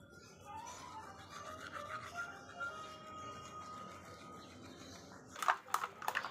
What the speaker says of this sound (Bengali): এখন আমি দাঁতটা ব্রাশ করব